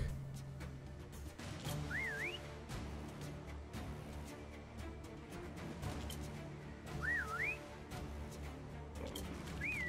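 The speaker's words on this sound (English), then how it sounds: "Let's see if I can whistle to attack." A character in the video game Atlas whistles a command, short rising-and-falling whistle notes repeated three times over a busy game background of steady tones and clatter.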